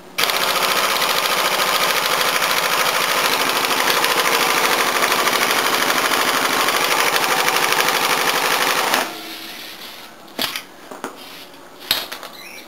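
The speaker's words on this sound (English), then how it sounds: "we've got a new rattle gun" A new pneumatic impact wrench, or rattle gun, hammers loudly and continuously for about nine seconds at close range, then stops, leaving a few short clanks and knocks.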